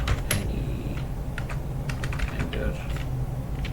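Someone typing a Java shortcut on a computer keyboard: scattered individual key clicks and a few quick runs of taps over a steady low hum, with someone talking at the same time.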